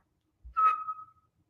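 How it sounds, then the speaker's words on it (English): A single sustained whistled note rises briefly then holds steady before trailing off, heard alone in a quiet room after a low thump. "why are you whistling?"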